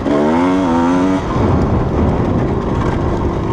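A Kawasaki KDX220 dirt bike engine revs loud and close while riding, a rising harmonic whine for about a second before dropping into a rough, steady drone with no talking.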